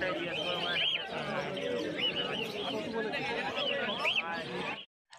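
Caged birds at a pet bird market chirp and tweet in repeated bright calls over a constant background murmur of voices and crowd noise.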